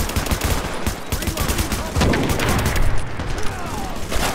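Rapid gunfire in the video game The Division, dense bursts of shots with sharp cracks and booms, continuous and loud, with brief talk over it.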